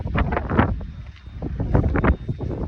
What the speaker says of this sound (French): il y a du vent un petit peu